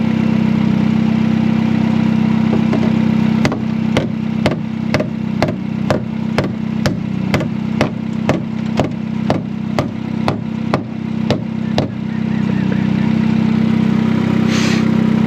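Honda Civic fitted with a bigger turbo idles steadily and loudly, with a run of about eighteen sharp, evenly spaced clicks or taps sounding over the engine drone near the middle, no voices.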